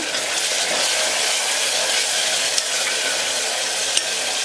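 Continuous soft sizzling of chopped onions sautéing in a pan for a curry, with a couple of faint clicks of a spoon, no voices.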